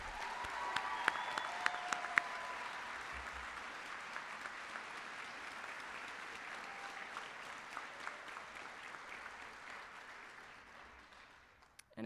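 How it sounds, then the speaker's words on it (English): Sustained applause from a graduation hooding ceremony audience fills the room, a steady dense wash of clapping that holds for several seconds and gradually thins toward the end. "Please give a round of applause."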